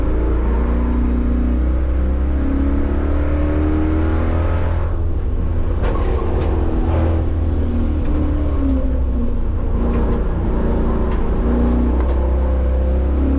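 A heavy 3,900-pound Chevrolet Caprice with a T56 manual gearbox, running hot on street tires, laps a track with a steady loud engine drone and rising and falling revs. Gear changes and brief lifts break the tone partway through.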